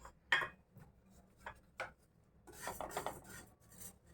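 Cumin and caraway seeds being dry roasted in a pan, with soft raspy scrapes and scattered rattling as the seeds are stirred, fairly quiet and close, growing busier toward the end.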